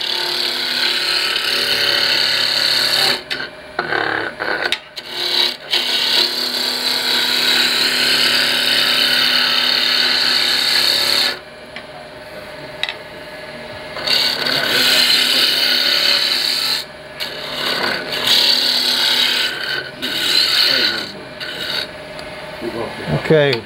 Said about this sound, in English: spindle roughing gouge, which, our object here is just making this round.